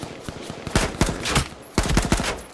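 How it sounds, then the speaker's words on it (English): Scattered shots in a video game shootout, several sharp separate cracks and short bursts at moderate volume over a few seconds, with no talk over them. "We got guys shooting us, bro."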